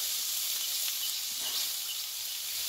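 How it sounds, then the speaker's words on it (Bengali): Spice paste with chopped tomato, salt and turmeric sizzles as it is sautéed in a pan for a pointed gourd vegetarian dish: a steady, close frying hiss with faint stirring scrapes. "দিয়ে মশলাটাকে ভালোভাবে কষিয়ে নেব"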